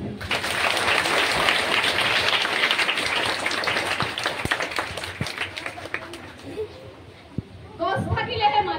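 A school audience gives sustained applause for Jadav Payeng, India's 'Forest Man', visiting their school. The dense clapping fills the hall for about six seconds, then thins out as a voice begins speaking near the end.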